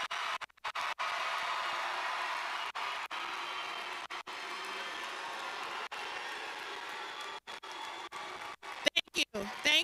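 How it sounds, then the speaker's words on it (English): Family and guests at the Eastmoor Academy graduation applaud the class of 2022, a faint, distant spread of clapping that runs through the hall, broken by sharp knocks and a few close bumps toward the end. "applause."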